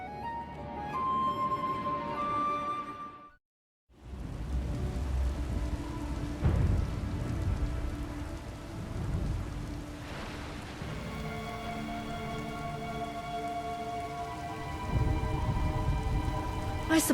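Steady storm rain pours throughout the Star Wars: The Old Republic game scene, with a brief dropout near the start and low thunder rumbles rolling in underneath, over a faint tonal score.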